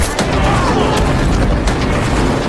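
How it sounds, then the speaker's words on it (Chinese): A landmine detonates under a passing convoy in an action film, a loud, dense boom with sustained blast rumble and debris noise that stays heavy throughout. "在车队经过时，直接引爆了地雷。"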